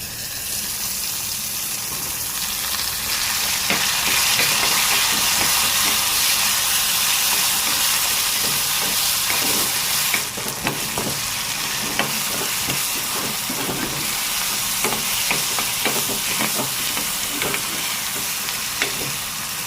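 Onions and tomatoes fry for a Tamil-style mutton kulambu, a steady dense sizzle with scattered clicks and scrapes of stirring running throughout, loud and close with no talking.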